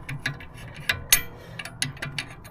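Screws are tightened on a wheel bearing press tool for a Mercedes-Benz W212 E250 4matic front hub, giving scattered ratcheting clicks and metallic ticks at an irregular pace, fairly close and moderately quiet.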